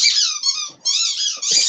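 A pet plays with a squeaky toy, pressing out three long, shrill, wavering squeaks in quick succession, close and loud, with faint breathing in the short gaps.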